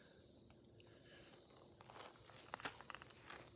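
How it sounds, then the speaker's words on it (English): Insects chirping in a forest at night in Medoc Mountain State Park, a continuous high, steady cricket drone, faint and distant, with soft footsteps and leaf rustles close by. "You can hear, though, we're still getting some bugs back here."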